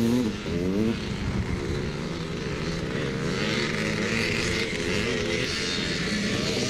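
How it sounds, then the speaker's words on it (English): A Maico 490 motocross bike racing at a Scottish motocross meet in Forestmill, Clackmannan, its engine droning loud and continuous as it rounds a turn, with the pitch wavering and no talking. "Jock McKell coming into the turn on the 490 Myco"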